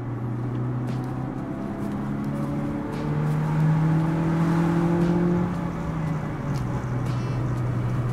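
A modified car engine pulls hard in third gear, a loud sustained droning hum that rises in pitch and swells midway before easing slightly, heard from inside the car with no talk.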